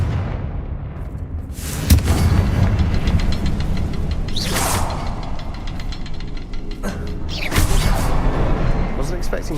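The Confringo blasting spell in Hogwarts Legacy lets out a few loud, broad bursts spread over several seconds, sitting under steady game background noise and a voice talking.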